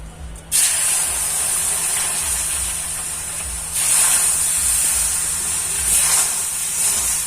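Water poured into roasted semolina in a hot pan gives a loud, steady sizzling hiss that swells again partway through, with no talking.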